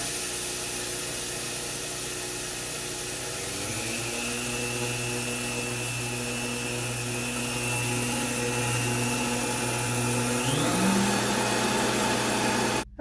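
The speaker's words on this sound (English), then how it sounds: "My little dry ingredient Vitamix did not do a good job of grinding this up." A Vitamix blender with a dry-ingredient container grinds mustard seeds. Its motor hums loudly and continuously, and the pitch shifts upward twice as the speed changes. The whirring cuts off abruptly at the end.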